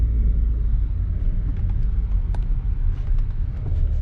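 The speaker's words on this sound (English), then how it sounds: "You see the car slows down automatically." 2019 Audi RS5 slowing down automatically on adaptive cruise, a steady low road and engine rumble heard from inside the cabin, with a few faint clicks and no talking.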